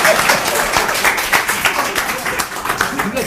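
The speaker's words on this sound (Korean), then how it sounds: "자, 박수." Applause from a live talk show audience, a steady wash of clapping that stays loud and dense for a few seconds.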